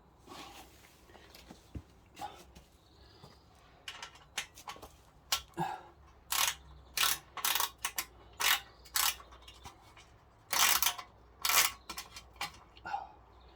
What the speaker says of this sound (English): So let me start by removing this cover.